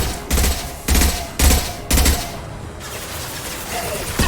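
Impact-shot gunfire in Mass Effect 2 sounds as four loud, evenly spaced heavy blasts about half a second apart, followed by quieter lingering game ambience.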